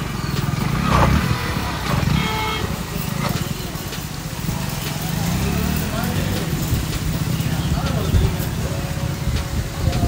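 A Hero Splendor motorcycle fitted with an RTR Apache clutch plate rides along a highway, its engine droning steadily with rumbling low-end noise and wind buffeting throughout, loud and continuous from close by.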